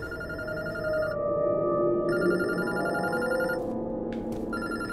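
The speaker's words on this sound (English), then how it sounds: "Okay, phone is ringing." Telephone ringing in the game Unknown Fate, a bright electronic bell repeating in bursts with short gaps, moderately loud over a low ambient game background.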